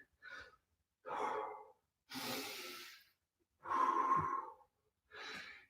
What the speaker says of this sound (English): take those nice deep breaths.